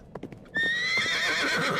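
A horse in an audio drama pulls up with a few quick hoof clops, then lets out a loud, shrill whinny that rings out and fades, close and clear.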